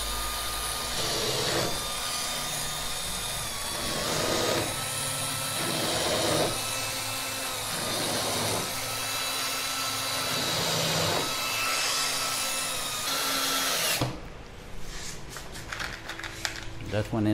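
A drill with a countersink bit bores screw holes into wood while building a trimaran sailboat, several loud whirring bursts with short pauses between them, ending in a rougher grinding stretch.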